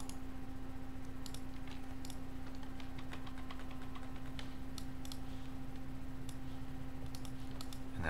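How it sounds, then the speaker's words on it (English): Cards from a Marvel Champions deck being shuffled, a steady run of soft papery riffling clicks alone over a constant background hum, with no talk. "Let's get this deck shuffled up."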